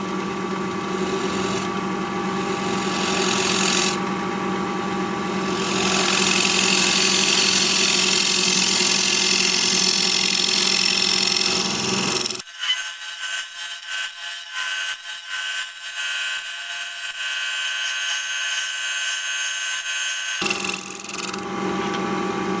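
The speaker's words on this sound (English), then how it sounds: "I'm just going to get a negative rake scraper and scrape the whole thing now." A negative rake scraper works a wood-turning project on a lathe, giving a steady close rasping scrape over the spinning wood. The scrape cuts out for several seconds, leaving only a faint hum, then returns.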